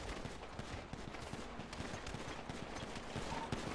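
Rapid bursts of gunfire from a video game shootout crackle as dense, repeated shots through a busy, continuous background, fairly faint overall.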